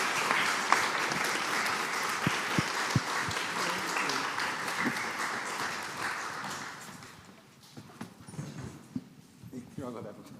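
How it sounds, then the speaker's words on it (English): An audience claps in steady, dense applause that swells and holds for several seconds, then thins out and fades to scattered claps and room noise. "If you can give them a round of applause."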